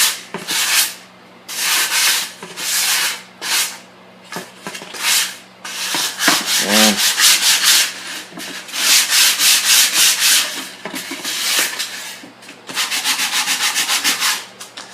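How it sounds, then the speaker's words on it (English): Sandpaper rasps back and forth over the rough edges of a wooden snare drum shell in loud, close, rhythmic strokes, pausing briefly between passes. "I'm gonna sand the rough edges on there."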